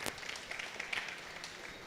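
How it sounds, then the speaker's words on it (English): Audience applause at a school ideas forum, brief and moderately faint, a patter of clapping that fades out in under two seconds. "clap for that for sure"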